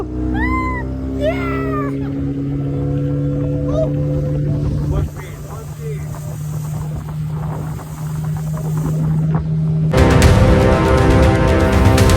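A boat motors across the sea off Shivrajpur beach near Dwarka toward an island, its engine a steady droning hum throughout, with a few high voice-like calls at the start and louder wind and water rush near the end.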